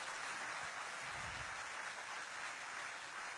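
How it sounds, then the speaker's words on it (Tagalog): Loud, dense applause fills a church gathering, a steady crackling wash of many hands clapping with no pauses. "Yan, malakas na palakpak."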